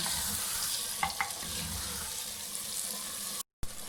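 Chicken being mixed into malai handi in a clay pot, a soft sizzling hiss with a couple of brief scraping knocks from stirring, no talk.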